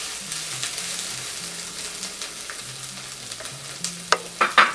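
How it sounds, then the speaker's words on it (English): Food sizzles and scrapes in a pan as it is stir-fried for Ghanaian Ewe aborbi tadzi, with a low hum underneath and a few sharper clinks near the end. "Make sure you stir fry"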